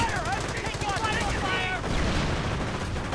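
A WWII strategy video game battle with Panzer and Panther tanks, anti-tank guns and mines fills the scene with dense gunfire and explosions, while a voice talks over the din.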